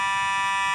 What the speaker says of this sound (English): a fire alarm here at our GPP studios, to be exact.